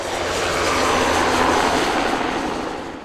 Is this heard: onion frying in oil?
no